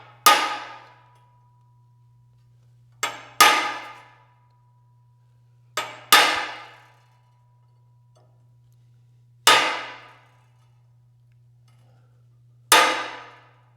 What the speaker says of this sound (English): Just going to center punch this.